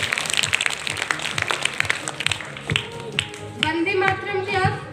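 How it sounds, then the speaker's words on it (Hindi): An audience claps loudly for a young girl named Ruby at a school event, a dense burst of rapid hand claps that thins out within a few seconds as a voice starts speaking over the fading applause. "एक बार जोरदार तालियां रूबी बिटिया के लिए"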